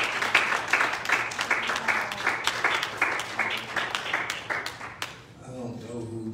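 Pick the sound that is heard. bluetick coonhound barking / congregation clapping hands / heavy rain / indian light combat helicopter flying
congregation clapping hands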